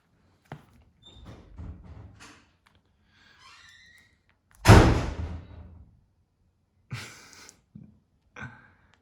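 Bedroom door slammed shut by the wind, one loud, heavy bang with a short rattling decay, set among faint breaths and small rustling noises.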